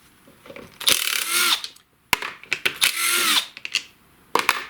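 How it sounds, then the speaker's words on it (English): Torx T27 screws being backed out of a STIHL chainsaw handle, heard as short whirring bursts of a power driver with clicking ratchet-like mechanical sounds in between, close and fairly loud. "I'm just going to start by removing the Torx T27 screws that hold the handle"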